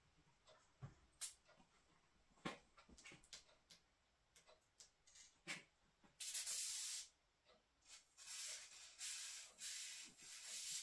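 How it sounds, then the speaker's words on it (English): Lube is sprayed onto the chain of a klunker bicycle. Faint scattered clicks and rubs come first, then longer bursts of close, loud hissing spray. "Now to lube the chain."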